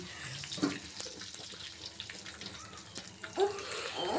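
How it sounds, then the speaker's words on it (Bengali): Whole mustard seeds crackle in hot white cooking oil, a faint spread of small pops and sizzle with a few sharper bursts, close by and steady for several seconds without speech. "দেখুন সরষেগুলো কত ফুটবে, একদম ফটফট ফটফট শব্দ হবে।"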